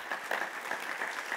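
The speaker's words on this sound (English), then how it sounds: "Give them a round of applause." Brief burst of audience applause at a conference, a steady patter of many hands clapping, fairly faint and somewhat distant in the room.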